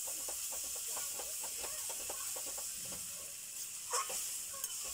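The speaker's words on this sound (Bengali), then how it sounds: "ভালো করে কষিয়ে নেব দেখতে হবে তলা যেন লেগে না যায় কড়াইতে" Boiled potatoes for alur dom sizzle and fry in a wok, with a constant hiss and repeated scraping and stirring strokes against the pan. The sound is fairly faint and there is no talk.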